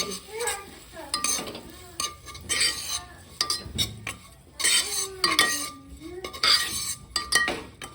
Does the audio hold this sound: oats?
yes